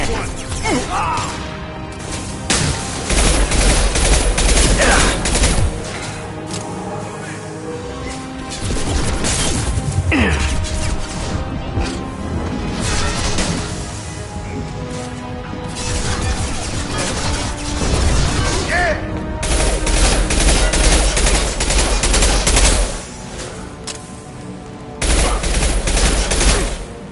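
Heavy gunfire rattles through a firefight in the video game Mass Effect 2 Legendary Edition. Loud volleys of rapid shots and crashing impacts come in repeated bursts separated by brief lulls, with occasional voices.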